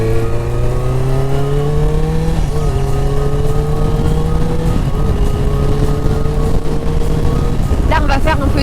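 A 2019 Honda CBR 650R sport motorcycle, restricted to A2 power, rides along a straight road with a loud, steady engine whose pitch climbs smoothly through the gears, plus wind rush and a brief rev near the end.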